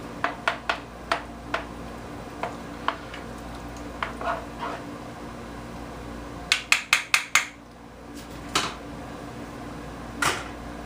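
Sharp knife strikes on a cutting board while preparing sausages and sauerkraut in a kitchen, arriving in short irregular bursts of quick chops with quiet pauses between them.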